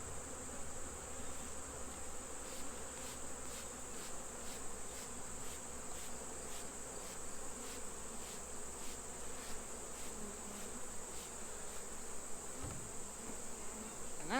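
Honeybees from two nucleus colonies being combined, a dense continuous buzzing hum from many bees close by, steady and unbroken, with faint rhythmic ticking and a brief thump near the end.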